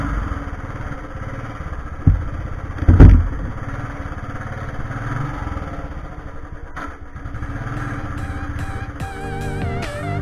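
A petrol scooter engine runs steadily on a short ride of a few kilometres after being refuelled, with a low mid-pitched drone, one loud bump partway through and a rising whine near the end.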